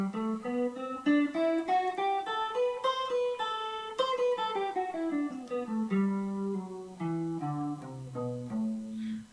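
A melodic instrument plays a Dorian mode scale rising then descending, single notes in steady succession, clear and close with no talking.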